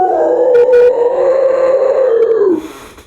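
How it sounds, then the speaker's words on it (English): A dragon's roar plays as a sound effect during a children's story, a loud, drawn-out howling growl that holds for about two and a half seconds before sliding down and fading. "the witch heard a roar that was scary and loud"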